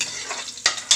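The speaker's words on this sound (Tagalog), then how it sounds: "Inuuna ko po ang sibuyas para kahit medyo matoasted siya" Chopped onions sautéing in a pan as the first step of a soup: a steady soft sizzle with two sharper scraping stirs near the end, close and brief, with no voices.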